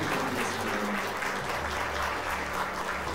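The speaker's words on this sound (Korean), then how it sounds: "여러분 큰 박수 부탁드립니다." An audience gives sustained applause to a famous 9-dan Go player introduced on stage at a Korean Go legends event, a steady wash of many clapping hands at moderate loudness.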